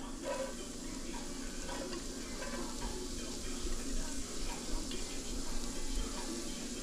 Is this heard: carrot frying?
yes